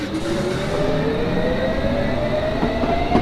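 London Underground S8 stock train pulling away from Northwood station in Train Simulator 2019 on a semi-fast service, a loud steady rumble with a rising motor whine and occasional wheel clicks, no voices.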